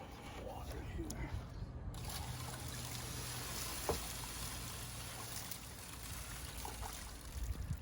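Water from a Keene Mini Max high banker rinsing a gold-prospecting mat outdoors, a steady splashing trickle that runs nearly throughout, with a brief pause near the start and a sharp knock midway.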